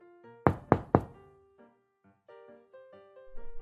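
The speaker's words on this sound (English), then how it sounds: "Mary knocked on Ron's door 3 times." Three sharp, evenly spaced knocks land on a door, loud and close, over a soft musical background that continues after them.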